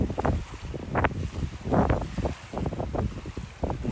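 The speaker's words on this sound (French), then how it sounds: "on va dérouler la grande voile" A sailboat moves along under sail off Northern Ireland with the mainsail unfurled, heard as steady, fairly loud wind buffeting the microphone over rushing water and irregular low gusts, with no talk.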